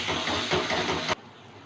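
Spice masala with turmeric and Kashmiri chilli powder frying in a pan for gondhoraj chicken, a steady close hiss and crackle that stops abruptly after about a second, leaving quiet room tone.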